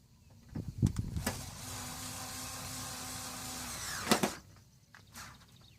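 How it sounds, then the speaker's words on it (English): A power screwdriver whirs for a few seconds while fastening the cover of a split air-conditioning unit, framed by clacks and knocks as the bit slips and jumps, close and fairly quiet. "I'm using the wrong screwdriver, but that's why it's jumping."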